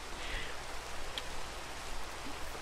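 Rain falling in Minecraft at night, a steady soft hiss of droplets running evenly throughout at moderate level, with no talking over it.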